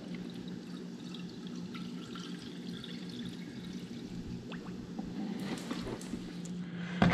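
Flush water drains from the cooling system of a Triumph Daytona 675 motorcycle, a soft continuous trickle and splatter with faint drips, low and steady throughout and not overlaid by talk.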